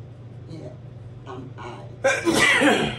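A single loud sneeze bursts out during a church scripture reading at a Eucharistic service, following quieter spoken lines from the reader.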